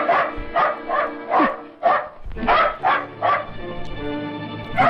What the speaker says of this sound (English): Even animals know to bark at this dark figure.